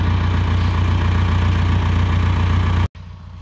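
A tractor engine idles with a steady low rumble and even throb, close and continuous, before a sudden cut and a quieter resumption.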